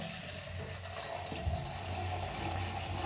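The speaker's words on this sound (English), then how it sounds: "And I'm just gonna add my water." Water poured from a tap or jug into a hair-wash mixture in a small container, a steady continuous splashing and trickling flow, fairly close, with no talking over it.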